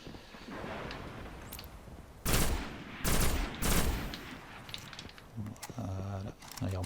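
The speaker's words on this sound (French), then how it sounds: "pourquoi ils me tirent dessus? Je tire dessus moi aussi." Gunfire from the Destiny beta on PS4: several bursts of rapid shots over a continuous game soundscape, followed by shorter clipped electronic effects near the end.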